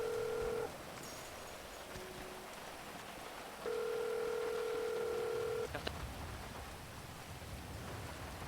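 Two steady phone dialing tones in GTA V, a short one at the start and a longer one a few seconds later, heard over soft rain-like background hiss with no talking.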